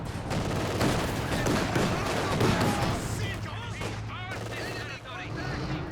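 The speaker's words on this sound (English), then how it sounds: "heavy mortar a little bit closer this time, so the scatter should be tighter. Less travel time on the mortar shells" Heavy mortar shells pound the ground in a Company of Heroes 2 match, a dense, continuous barrage of explosions and gunfire with overlapping blasts throughout, while a voice talks over the battle.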